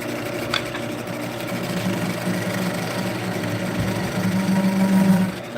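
A wood lathe spinning steadily, a continuous motorized hum and whir that holds even throughout and swells slightly toward the end, with no voices.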